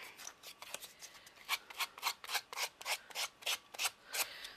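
Sandpaper rubs back and forth over a shabby chic craft heart to take off the excess, a close, quiet, steady rasping rhythm of about a dozen strokes with no talk.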